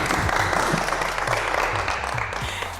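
A short stretch of steady audience applause on a French show as gifts are handed out, with even, continuous clapping from a crowd throughout.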